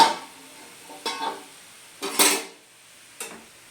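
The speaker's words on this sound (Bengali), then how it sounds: "ঢাকাটা এবার আমি খুলে দেখছি।" Lid being lifted off a pan of cooking papaya chutney, a few separate metallic clinks and scrapes with quiet gaps between them, close and fairly soft.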